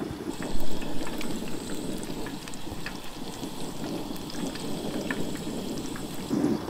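Battered prawns sizzling in hot oil outdoors near the beach, giving a dense, continuous crackle and pop with a low rumble beneath, steady and close, with no voices.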